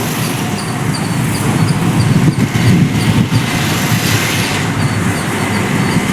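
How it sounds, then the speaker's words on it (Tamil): Rubber-tyred gantry crane working at Chennai port as it lifts a container onto a truck, a loud steady mechanical rumble and engine drone with faint rattling, without talk. "இப்போ நீங்கள் அந்த ஆர்டிஜிலேருந்து லைவாக பார்க்கலாம் கண்டெய்னரை அந்த ஆர்டிஜி தூக்கி ட்ரக்கில் வைக்கும்"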